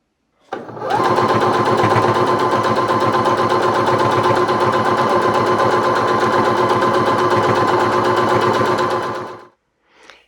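A sewing machine quilts lines across a fabric coaster, running in one continuous fast rhythmic stitching burst for about nine seconds, close and loud, then stops.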